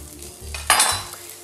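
Guanciale hitting a hot frying pan, with a short clatter followed by a bright burst of sizzling that fades slightly over a second, close up with a low background hum.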